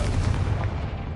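A Confringo blasting spell explodes in the Hogwarts Legacy video game, a short, heavy boom with deep rumble that thuds close up and fades quickly, heard alone.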